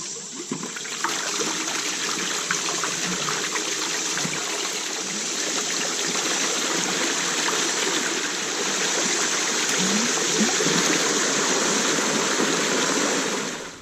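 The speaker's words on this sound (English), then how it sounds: "All right, we got some awesome water flow, guys." Pumped water rushes through a gold sluice box, a loud, steady, broadband flow that continues without pause and with no voices.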